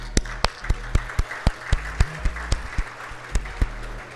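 A small group claps steadily, a dozen or so distinct, evenly spaced claps ringing out in a quiet room.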